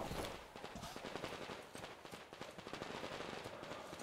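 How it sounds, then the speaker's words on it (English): Rapid, dense bursts of gunfire in the video game Metro Exodus, overlapping shots crackling continuously and loudly for the whole stretch without a break. "A lot of gunfire, though."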